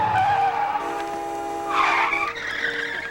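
A car skids toward Meatloaf as he crosses the street in a movie, with loud, sustained tire squeal rising to a harsh screech midway, near and continuous over engine noise, with no talking.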